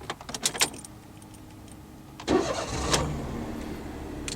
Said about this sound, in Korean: 자, 시동 걸어 보겠습니다.